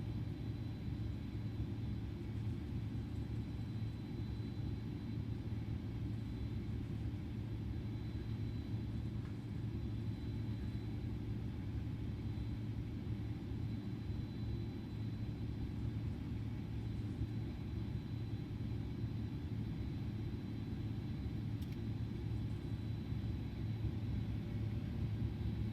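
An airplane taxiing toward runway 28 in a flight simulator game gives a steady, low engine rumble that drones on evenly with no breaks and no talk.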